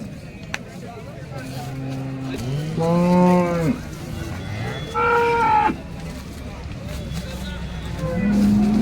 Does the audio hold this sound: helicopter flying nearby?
no